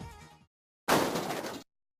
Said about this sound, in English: the one where you're smashed flat by a falling clown car